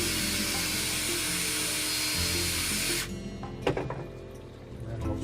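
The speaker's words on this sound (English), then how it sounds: "I'm going to go ahead and drill a 3/64 hole in the center of this door at the top." A small drill bores a 3/64-inch hole in the top center of a fish trap door, a steady high whine for about three seconds, then stopping with a few clatters and handling noises.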